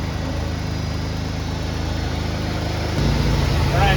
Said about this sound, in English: Can you hear the full race exhaust leak?